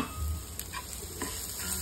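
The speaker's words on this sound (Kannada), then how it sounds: "ಈಗ ಅದಕ್ಕೆ ನಾನು 1/2 ಬೌಲಷ್ಟು ತೆಂಗಿನ ತುರಿನ ಹಾಕೋತಾ ಇದ್ದೀನಿ." Grated coconut frying in a pan for toor dal sambar, giving a steady close sizzle with a few scraping stirs across the short stretch, no voices.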